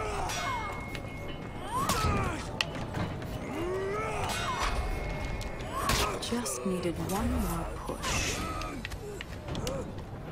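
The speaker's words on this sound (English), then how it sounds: "If I understood this contraption, raising the elevator now should prove exciting." An elevator mechanism in the video game For Honor creaks and clanks as it raises. It makes a continuous grinding and ratcheting racket with metallic squeals, and a voice talks over it.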